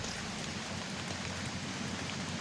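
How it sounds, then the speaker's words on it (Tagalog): Heavy rain pours steadily, a dense continuous hiss of drops hitting surfaces with no pauses or voices. "At dahil lumalakas na ang ulan ng mga oras na yun"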